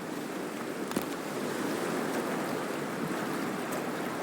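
Wading into cold water in Cyberpunk 2077: a steady, close wash of churning water and lapping surf with a soft splash near the start, continuing alone without talk.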